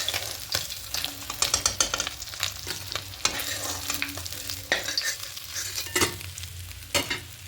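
Pabda fish frying in oil in a pan, a steady sizzle broken by sharp clatters and scraping stirs as the pieces are moved and lifted out, close and fairly loud.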